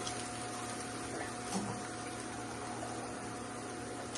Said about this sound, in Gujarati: થોડુંક પાણી એડ કરીશું આપણે.